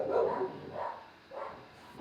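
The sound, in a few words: dogs barking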